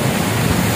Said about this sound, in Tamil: இங்க பாருங்க தண்ணி இங்கெல்லாம் வலிஞ்சு அப்படியே போகுது.